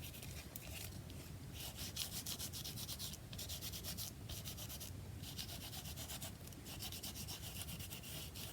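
Collage material on packaging is rubbed by hand, giving a steady close scratchy friction with quick back-and-forth strokes and short pauses, with no talking.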